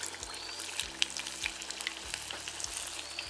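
Urad dal vadai (crispy ulundu vadai) fry in hot oil with a steady, close sizzle and crackle that runs throughout, broken by a few brief low thumps and stirring clatters.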